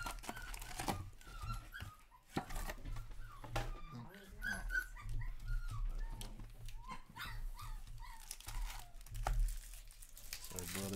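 A small puppy whimpers and yips in short, scattered bursts through a room, mixed with crinkling noises and background talk.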